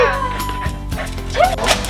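A Chihuahua yips and barks in short, excited bursts close by, mixed with whimpering and background voices in a busy indoor room.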